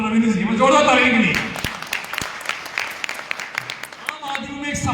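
Audience at a business seminar applauding: after a voice, scattered sharp claps ring out in a loose, uneven burst before speech resumes.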